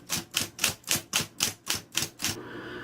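Typing on a 1979 Brother L10 typewriter: eight evenly spaced, crisp key strikes in a steady rhythm, heard up close and alone, followed by a soft mechanical hum.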